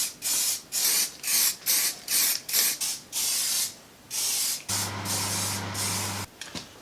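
Bursts of aerosol spray paint hiss in repeated short passes as a bandsaw stand gets a coat of black, close and loud, with a longer steady burst near the end.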